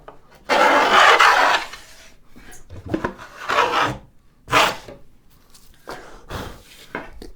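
A hand plane with its fence set cuts a heavy groove in wood for a tool tote, giving bursts of rasping, scraping shavings strokes, one long loud pass followed by several shorter ones, close and alone.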